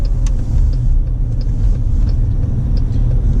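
A car passes on the road during a drive, a steady loud low engine and tire rumble filling the whole stretch with no distinct peak, heard from inside a vehicle.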